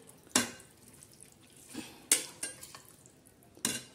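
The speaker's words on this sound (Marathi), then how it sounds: "आता छान असं हलवून घेऊ" A spoon scrapes through chicken frying in hot oil in a pressure cooker pot while a spicy black-masala curry is being made: three distinct close stirring strokes, spaced about every one and a half seconds, over a faint sizzle.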